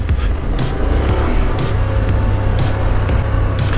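Traffic, including off-road vehicles and Jeeps, passing on a washed-out backcountry dirt road in Washington: several quick whooshing pass-bys over loud, constant motorcycle and wind rumble.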